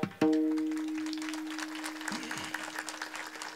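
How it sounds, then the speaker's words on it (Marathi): Audience in a religious discourse hall breaks into sudden, sustained clapping that swells at once and then carries on as a steady patter, with a held tone ringing underneath. "या धर्म मंडपात जेवढे जेवढे जिवंत आहेत फक्त त्यांनीच टाळी वाजवा"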